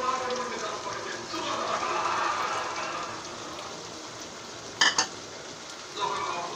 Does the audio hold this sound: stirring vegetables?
yes